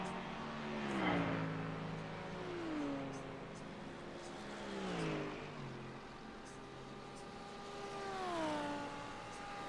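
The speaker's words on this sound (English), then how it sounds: "Did you hear the engine pop?" Race car engine in the iRacing sim during a Road America GT race, revving up and down through repeated gear shifts, moderately loud and steady with no clear separate pop.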